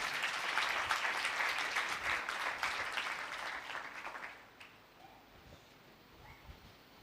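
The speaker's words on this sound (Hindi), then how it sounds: "उसके लिए जोरदार तालियां बजाएं" Loud applause from a church congregation for a preacher, a dense wash of clapping that runs steadily for about four seconds and then cuts off, leaving a quiet room with faint scattered noises.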